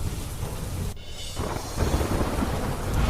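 Heavy downpour and thunder in Alwar, Rajasthan, with a dense steady roar of rain, a deep rolling rumble underneath and a brief dip in the noise partway through.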